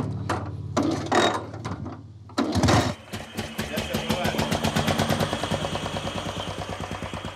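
A mill grinds malt for craft beer: after a couple of short starts, the machine settles into a loud, rapid, regular clatter of repeated mechanical knocks, close up, with no speech over it.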